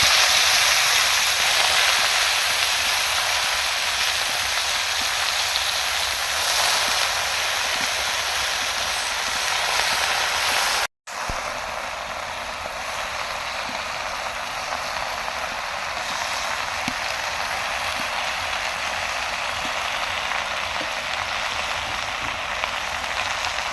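Greens tossed into a pan of fried green chilli and onion give off a long, even sizzle, a close, steady hiss with scattered soft pops and a momentary break midway, no voices.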